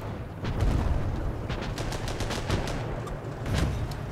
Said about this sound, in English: we are being shelled